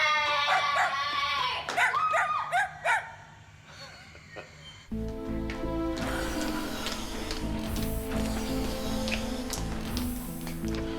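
In an animated episode, a dog's yips and barks ring out near the start amid bright chatter, then give way to a dense layer of music.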